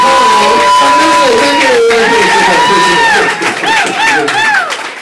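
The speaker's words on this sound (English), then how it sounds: "let's give it a big round of applause" Comedy club audience in Saigon cheering and applauding loudly and continuously, a dense crowd roar with whoops and shouts layered over voices, easing slightly near the end.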